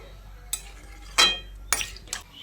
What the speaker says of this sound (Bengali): এবার এই গরম জলটা দিয়ে এঁচোড় আলুর সঙ্গে ভালো করে মিশিয়ে নিচ্ছি